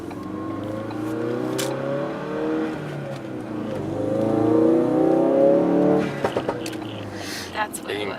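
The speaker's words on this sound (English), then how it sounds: "you can hear that waste gate now" A 2016 Ford Focus RS fitted with a COBB intake revs its engine, rising and falling in a throaty drone with wastegate whooshes, close and loud, while people talk over it.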